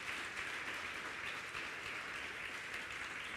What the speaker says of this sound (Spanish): Dele un aplauso fuerte al Señor, bien fuerte